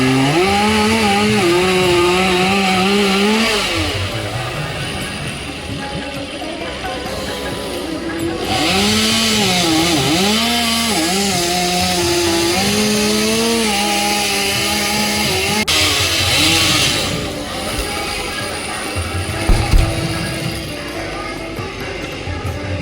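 Chainsaw cutting through a tree trunk being shaped into a temple flagpole, running loud and close with its engine note rising and falling as it bites into the wood throughout.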